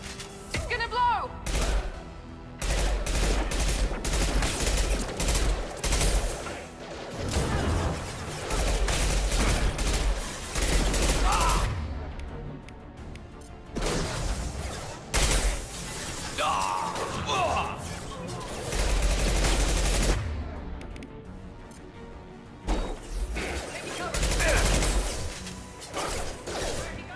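Gunfire in the sci-fi shooter Mass Effect 2: Legendary Edition, with repeated bursts of shots and mechanical clatter mixed with whooshes and impacts, and combat voices talking over the action.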